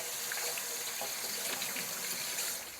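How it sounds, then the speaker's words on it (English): Water runs steadily from a kitchen tap while hands are washed, a continuous close hiss of flow with small splashing variations throughout, no talking. "Alright, let me wash my hands."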